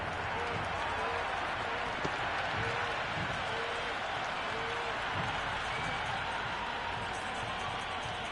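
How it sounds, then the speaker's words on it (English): A steady roar of a stadium crowd cheering and clapping in the video game Cricket 26, during an India vs Zimbabwe match, a constant wash of noise with a voice talking over it. "The crowd are really getting quite raucous."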